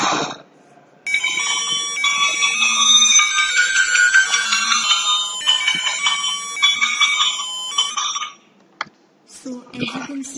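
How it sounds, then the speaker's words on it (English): An electronic bell, part of a secret bell project set off by blowing air into a microphone, rings loudly and continuously for about seven seconds with bright sustained tones, then cuts off, followed by brief faint noises. "finally the bell will ring"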